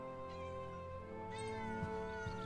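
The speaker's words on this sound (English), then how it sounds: "What's the meowing?" A cat meows in the horror game Bizarre Earthquake: drawn-out, wavering cries that rise and fall, fairly faint and alone over a steady tonal drone.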